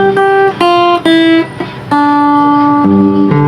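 Fingerstyle acoustic guitar plays a song at normal tempo, clear plucked notes and ringing chord tones changing every half second or so, close and loud with no voices.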